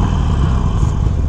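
A 2021 Harley-Davidson Iron 883 with its stock exhaust runs close and loud, giving a brief, steady, deep engine rumble with no voices over it.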